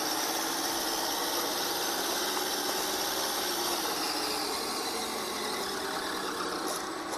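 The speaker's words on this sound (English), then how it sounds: "You hear the engine revving up." A small RC car electric motor whines continuously at a high, steady pitch, holding near and fairly loud for several seconds without pause.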